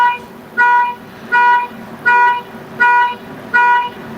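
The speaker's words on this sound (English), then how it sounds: "there's a car honking outside" Car horn honking outside in six evenly spaced toots, each about half a second long, loud and clear against a quiet background.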